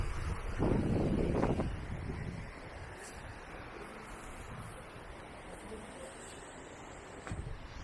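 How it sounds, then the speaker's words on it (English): Steady seaside wind at Kep, Cambodia buffets the microphone in a low, continuous rush, strongest in gusts near the start, with faint surf-like wash underneath. "A bit windy."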